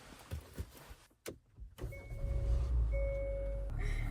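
Someone gets into a car: a few soft rustles and bumps, then a sharp door slam, followed by a steady low engine rumble with brief electronic chime tones over it.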